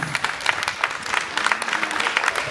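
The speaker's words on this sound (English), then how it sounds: "give them a round of applause" Crowd applause for a Pee Wee Little League team at the opening of a Little League tournament, steady scattered clapping from a moderate gathering, fairly loud and continuous for a couple of seconds without talk.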